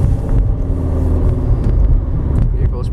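A silver 2015 Nissan Rogue AWD SUV rolls over bumpy side roads with ups, downs and speed bumps, giving a loud, steady low rumble of road and engine noise inside the cabin, with occasional light knocks.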